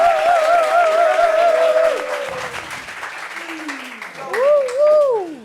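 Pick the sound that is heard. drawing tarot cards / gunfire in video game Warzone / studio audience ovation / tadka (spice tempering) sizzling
studio audience ovation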